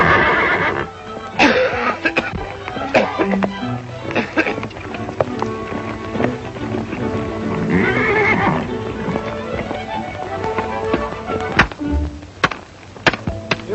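A horse neighs and whinnies while hooves clip-clop on the ground, loud and close, mixed with a few thuds and background music.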